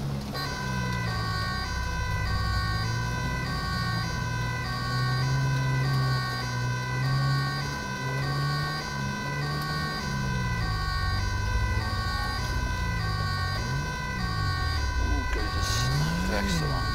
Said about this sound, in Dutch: Ambulance is ter plaatse. We gaan het horen dan.